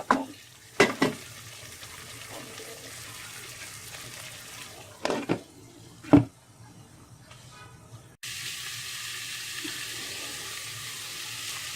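A brinjal and potato curry with a splash of water added cooks covered in a pan: a few sharp clanks of the pan and lid, then a steady soft simmering hiss, with no talking.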